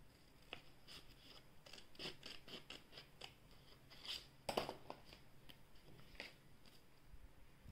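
Scissors snip through folded paper to cut out tiger ears, a series of close, crisp cuts at an uneven pace with short gaps between them and no talking.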